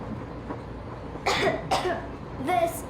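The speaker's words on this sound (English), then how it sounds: "I have this cough." Three short, raspy coughs from a girl in the video game Metro Exodus, spaced about a second apart over a low background hum.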